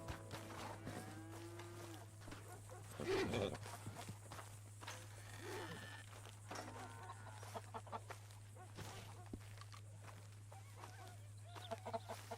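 Dominique, Java and Leghorn chickens cluck on a ranch in Red Dead Redemption 2, with scattered clucks and calls mixed with cattle lowing, footsteps and a steady low hum, while people talk over it.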